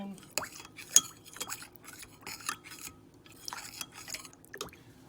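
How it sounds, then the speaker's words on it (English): Spoon stirring Better Than Bouillon beef base while cooking Salisbury steak, soft clinks and scrapes of utensil against a pot or bowl in an irregular rhythm, quiet and close. "It'll take that a while to dissolve, so I'll just keep stirring it as I'm cooking"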